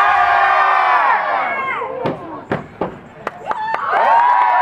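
A festival crowd bellows a single word together in one loud, sustained group shout, followed by scattered claps, thumps and lingering voices before the noise swells again.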